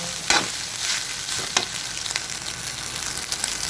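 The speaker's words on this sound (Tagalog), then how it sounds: "Haluan ko na itlog din." Egg being stirred into rice in a frying pan makes a continuous sizzle with sharp scraping and tapping strokes of the utensil at irregular intervals, close up, with no voices.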